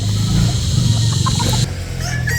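Golden Boy rooster and chickens in a breeder's yard, clucking repeatedly up close over a steady background hum, with no talk.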